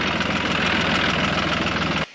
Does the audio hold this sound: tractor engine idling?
yes